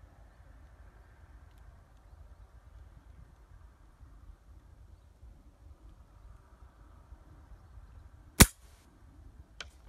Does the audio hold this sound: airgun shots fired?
yes